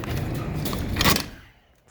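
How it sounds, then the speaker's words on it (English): A door in an auto paint booth swings shut, a sustained rumbling slide ending in a soft thud, then the room falls quiet. "Just shutting the door."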